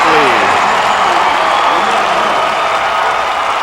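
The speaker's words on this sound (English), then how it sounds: "Almost can hear the crowd with a different kind of roar." A packed high school basketball regional final crowd roars and applauds in a gym, a dense, loud wash of cheering and clapping that holds steady while voices murmur beneath.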